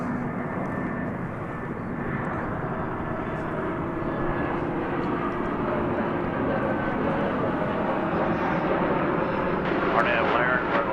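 A fixed-wing airliner arriving from Anchorage at Dallas Fort Worth Airport, its engines a steady broad roar that builds slowly and stays loud and continuous, with a voice talking over it.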